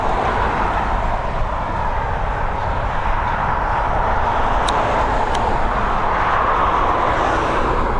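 An Emirates airliner at Dublin Airport, a loud steady jet roar that stays constant throughout, heard from a planespotting spot with no talking.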